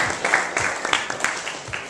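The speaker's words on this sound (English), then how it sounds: "how about a big round of applause for the Podcamp team?" A live audience claps for the Podcamp team at an Innovation Group Nashville talk, a short, dense burst of applause filling the room at steady loudness.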